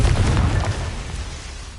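A Confringo blasting spell explodes in the Hogwarts Legacy video game, a single loud, close boom that bursts at once and then rolls off into a fading rumble.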